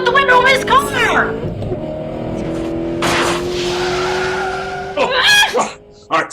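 Car tires blow out on heavy tacks thrown into the road, and the car skids with a sharp screech and then a rushing swoosh, between excited dramatized voices.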